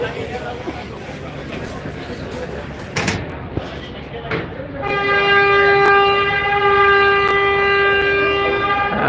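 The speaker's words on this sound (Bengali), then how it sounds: "হর্ন কিন্তু তারা বাজাচ্ছে সাইরেন বেশ চমৎকারভাবে" Muffled background bustle at Barishal launch terminal, then a loud, sustained passenger launch horn blares nearby and holds its steady tone until the end.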